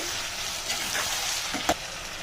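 Tomato kurma mixture being stirred in a pan, with a steady close sizzle of frying under a few soft scraping strokes of the spoon, including one brief sharper scrape near the end.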